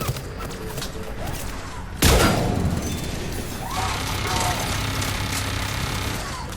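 A turret fires on its own side in Mass Effect 3, sending a sudden loud burst of gunfire through steady game noise while a player talks over it.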